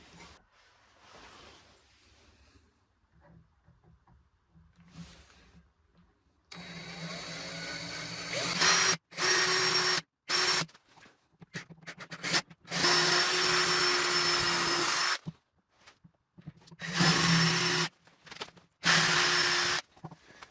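A power drill bores into a handmade wooden screwdriver handle in a home workshop, coming as several loud, close whirring bursts separated by short pauses after a quieter stretch.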